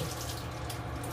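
Water pours from a bathroom tap while a face is wetted for a nightly wash, a short, close, steady rushing hiss with no voices.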